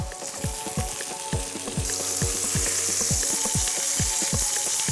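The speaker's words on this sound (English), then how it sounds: "Mozzarella is cooking quite quickly." Mozzarella cooking quickly at a summer home BBQ gives a loud, steady sizzle and fry, with a regular run of soft ticking pops beneath it, close up and with no voices.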